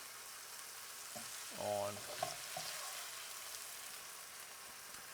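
A Philly steak kit cheesesteak sizzles in a frying pan on a stovetop, a soft steady hiss with a brief clatter of a spatula, and a voice speaks briefly.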